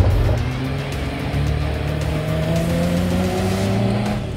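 A Jeep Wrangler Deegan 38 climbing a sand dune, its engine droning loudly and close with revs rising and holding under sustained throttle.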